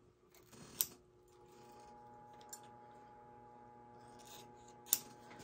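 Scissors cutting a recipe card to size, a few sharp snips spread over a few seconds, with a sparse faint rustle and low background hum between them, nearby and without talk.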